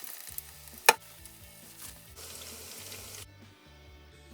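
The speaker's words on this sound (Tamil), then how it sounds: "இதுக்கு நான் முதல்ல 2 சின்ன கத்திரிக்காய் பொரிச்சு எடுக்கிறேன்." Two small eggplants fry in hot oil, giving a steady close sizzle with a sharp clatter near the start and a short quiet gap before the end, with no talking.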